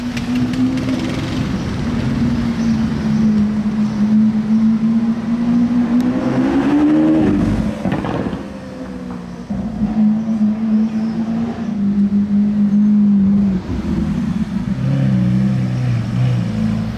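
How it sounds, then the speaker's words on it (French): V12 supercar engine approaching at the Monaco Grand Prix, a loud sustained droning tone that rises and falls with revs, briefly dips, then returns strong with a deeper note near the end. "J'entends un V12 arriver."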